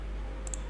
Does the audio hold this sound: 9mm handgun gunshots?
no